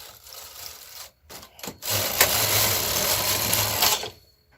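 A knitting machine carriage is pushed across the needle bed, giving a loud continuous rasping slide of about two seconds after a few short clicks and rubs, then stopping abruptly, with no talk.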